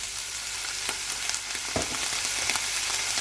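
Chicken manchurian sautés in a pan over a high flame, giving a steady loud sizzle with a few light stirring knocks, close and without talking.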